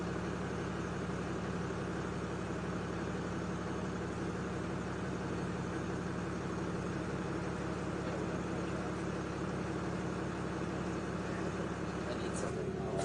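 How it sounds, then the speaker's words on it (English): A truck engine idles quietly with a smooth, steady low rumble and bass undertone, held close and unchanging throughout, with no talking. "Then you start her up. And she just purrs. Listen to it."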